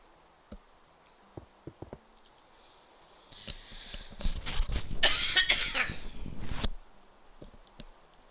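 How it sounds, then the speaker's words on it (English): A burst of harsh coughing fits from a person with a cold, loud and close, following a few small clicks and thumps in an otherwise quiet room. "all of a sudden, I just have this need to cough"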